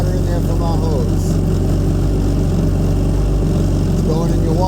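A jet ski engine running steadily during winterizing, a loud continuous low rumble and hum throughout, with a person talking over it.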